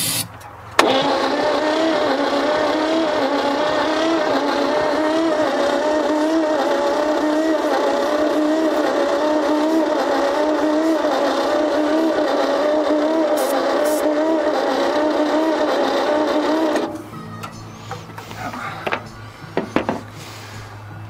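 An abandoned old truck, left in the woods for over 50 years, cranks and catches, its engine roaring loudly and steadily for about sixteen seconds before cutting out, followed by quieter clanks and handling noises.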